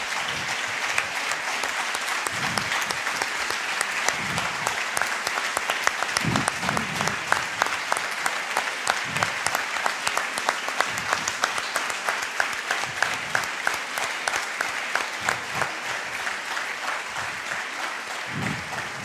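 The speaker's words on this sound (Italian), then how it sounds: "Applausi." Sustained crowd clapping at the 2016 Italian Fundraising Award ceremony honoring donor-category winners, a dense, even applause from the audience lasting throughout with no voices over it.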